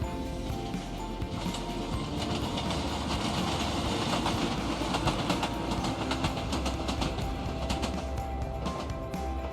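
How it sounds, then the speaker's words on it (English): A train rumbles past steadily through Scottish countryside for the whole stretch, with rhythmic clickety-clack of wheels on rails over a broad, continuous roar. "There goes the train."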